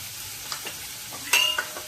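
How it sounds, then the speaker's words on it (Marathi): Chopped onion sautéing in a pan with a pinch of asafoetida, soft sizzling broken by a few sharp scraping stirs of a spoon against the pan, close and without talk. "आता छानपैकी कांदा परतून घेऊया"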